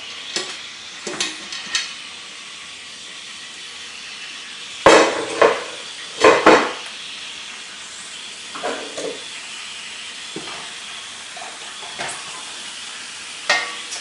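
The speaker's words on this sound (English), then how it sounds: "Take the lid off." Lid lifted off a pressure canner after bacon jars have processed for an hour and a half, with a steady steamy hiss broken by scattered metallic clanks and knocks, louder in a cluster near the middle.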